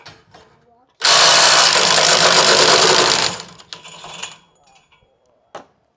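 DeWalt impact driver hammering to break a bolt free in a test against Milwaukee, a loud rapid burst lasting about two seconds after brief talk, then trailing off, with a short knock near the end.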